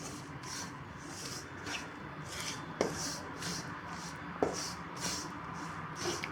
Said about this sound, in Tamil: இதை ஊற்றி கிண்டி பார்த்துட்டு அதுக்கப்புறம் வேணும்னா நீங்கள் ஆட் பண்ணிக்கோங்க.